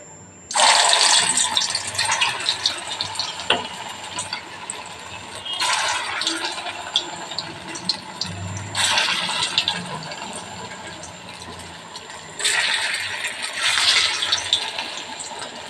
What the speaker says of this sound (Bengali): এবার ছোট্ট ছোট্ট করে আমি বড়াগুলো ভেজে নেব।